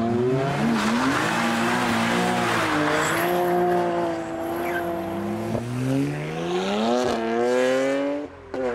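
Car drifting on a public street, tires squealing loudly and continuously with wavering pitch over a revving engine, sustained for several seconds without talk.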